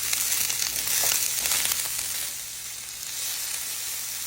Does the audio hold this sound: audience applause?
no